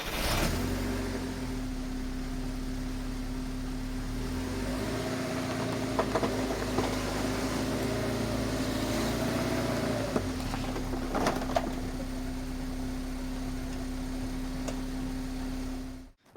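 A Porsche 968 engine idles and revs steadily for a long stretch as the car drives up onto plastic ramps, with a few light clicks and knocks as it creeps forward, no voices.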